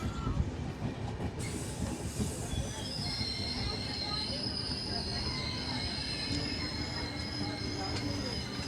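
A train runs through Muzaffarnagar railway station with a steady rumble of wheels on track, a rising metallic squeal, and faint voices in the background.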